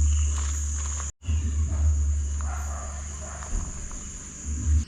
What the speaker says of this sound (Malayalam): ഇതാണ് നമ്മുടെ സ്റ്റേയുടെ നൈറ്റിലെ ആംബിയൻസ് കേട്ടോ.